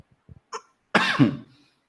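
A single close, harsh cough bursts out after a few faint clicks and a small throat noise, then fades into silence.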